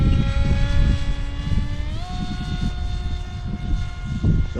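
Electric motor of a small 800mm Astro Z RC pusher jet on a 4S 1300mAh battery, a steady whining drone that rises in pitch mid-flight, mixed with loud buffeting wind noise outdoors.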